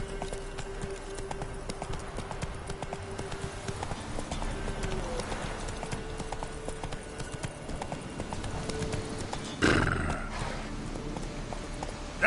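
Horse hooves clip-clop steadily at a walking pace in The Witcher 3, moderately quiet under ambient game sound, with a brief louder rustle near the end.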